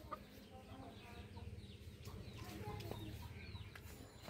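Home-raised hens cluck softly in a village yard, faint and intermittent, with people talking nearby.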